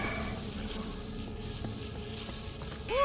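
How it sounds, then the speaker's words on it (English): A continuous sizzle, like something frying in a pan, marks darkness power draining away in The Darkness video game, holding steady throughout before a brief brighter swell at the very end. "you'll hear a sizzling noise that indicates your darkness power is steadily draining"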